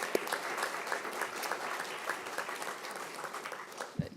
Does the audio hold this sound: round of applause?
yes